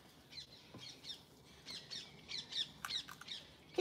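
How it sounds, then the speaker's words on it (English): Backyard garden birds squawking and chirping in short, bright bursts, fairly faint and a little distant, several quick calls overlapping with no speech. "Can you hear the birds chirping?"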